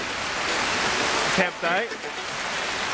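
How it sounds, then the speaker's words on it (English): Steady rain pours down at a wet backcountry camp in Fiordland, a dense, constant hiss filling the whole stretch while a voice speaks briefly over it. "Raining."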